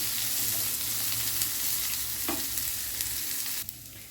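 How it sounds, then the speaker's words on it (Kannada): Onions fry in a little cooking oil over a high flame for a Punjabi chicken gravy, a continuous close sizzle with occasional stirring scrapes and a single clink near the end. "ಹೈ ಫ್ಲೇಮಲ್ಲಿ ಫ್ರೈ ಮಾಡುವ."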